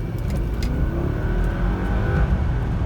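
A Mercedes-AMG car engine with manual transmission revs hard as it accelerates, a loud continuous growl rising in pitch, heard up close with no talking.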